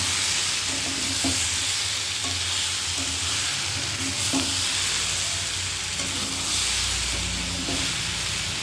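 Eggplant stirred and sautéed in a pan, with a steady sizzling fry running throughout and soft, periodic scrapes and clinks of the spoon; no voices.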